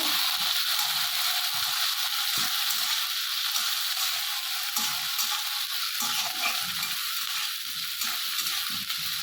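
Capsicum for a mughlai paratha filling fries in a pan with a steady, close, bright sizzle. Occasional scrapes and knocks of stirring run under it, with no talking.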